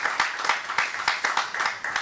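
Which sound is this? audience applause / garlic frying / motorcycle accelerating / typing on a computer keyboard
audience applause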